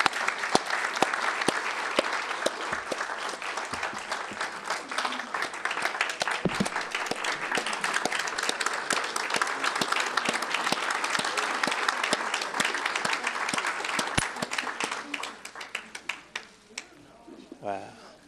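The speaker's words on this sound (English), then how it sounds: "we just want to take this time just to applaud all three of you again for your efforts" Sustained, fairly close audience applause honoring three speakers at a Women's History Month celebration, dense clapping with a few cheers mixed in, then tapering off near the end as voices emerge.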